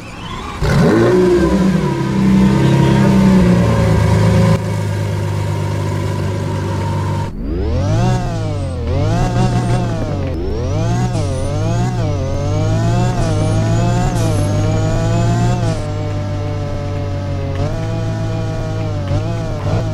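Lamborghini Revuelta V12 engine in the racing video game Driving Empire, loud and close, starting with a steady high drone, then several sharp revs rising and falling in pitch before settling into a lower sustained note.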